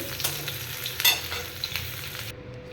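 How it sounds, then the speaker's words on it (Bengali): Vegetables for shukto fry steadily in hot oil, giving a close, continuous sizzle with light stirring scrapes, and the hiss cuts off near the end. "এটা আবার ভেজে লাল লাল করে ভাজা হয়ে গেলে তুলে নেব"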